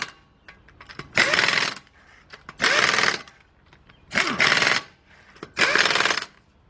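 A power tool tightens the lug nuts on a 2005 Nissan Pathfinder 4.0 front wheel after catalytic converter work, firing in four loud buzzing bursts of under a second each with short quiet gaps between.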